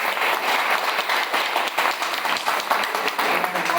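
Audience clapping in a steady, dense round of applause at a motivational talk, sustained and fairly loud throughout with no pause.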